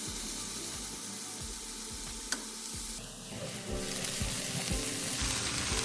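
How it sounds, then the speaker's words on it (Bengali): Chopped onions and green chilies frying in a pan until golden brown, a close, steady hiss and crackle with scraping stirs and occasional sharp clinks, brightening toward the end. "পেঁয়াজ আর কাঁচা লঙ্কা ভালো করে গোল্ডেন ব্রাউন করে ভেজে নেব।"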